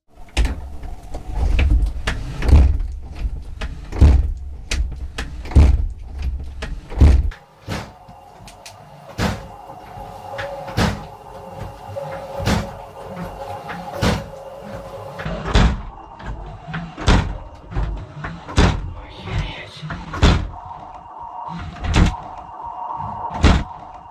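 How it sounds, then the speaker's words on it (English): Wardrobe doors swinging back and forth in a room, a long series of repeated knocks, thumps and creaks at irregular intervals, loud and close, with a low rumble early on and no talking. "The doors of a wardrobe can be seen swinging back and forth."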